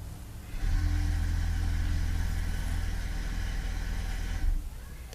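The fuel pump of a 1998 Cadillac Deville that won't start cuts on with a steady low hum and whine that runs for about four seconds, then stops abruptly.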